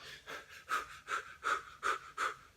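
A person demonstrates short, shallow breathing: about seven quick, evenly spaced breaths in a soft, rhythmic panting pattern, close and quiet, with no talking.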